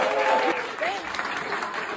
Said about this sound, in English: Give it a round of applause for Carly right now.